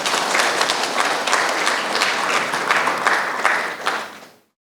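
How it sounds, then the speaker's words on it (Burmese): Wedding guests applaud together in steady, dense clapping that fills the room, holding strong before fading out near the end. "တုံလုံးလက်ခုပ်တီးပြရအောင်ဂုဏ်ပြုပြရအောင်"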